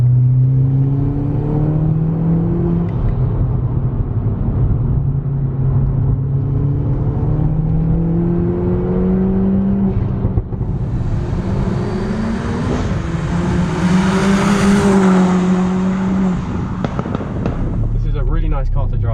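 Modified Mini Cooper S driving, heard from inside the cabin: a steady engine drone rising and falling with gear changes, rougher crackling under acceleration in the second half, and people talking over it.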